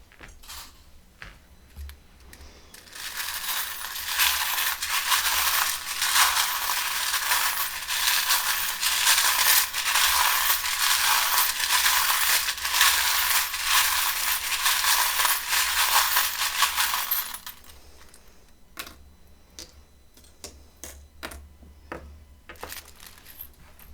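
Small tarot charms cast and tumbling together, a dense continuous metallic clatter and jingle that runs for about fifteen seconds, close and fairly loud, then thins to scattered clicks.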